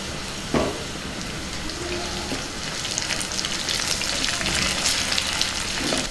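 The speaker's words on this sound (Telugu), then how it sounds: "పోపు వేగింది" Curry leaves and onion tempering frying in hot oil for moong dal sambar crackles and sizzles steadily up close, with a few sharp pops and light stirring.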